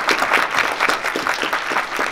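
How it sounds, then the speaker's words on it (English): An audience at a college launch event in Mumbai applauds, a dense, steady burst of clapping lasting a couple of seconds, close and fairly loud. "I think we should all give a big round of applause for GIC on this."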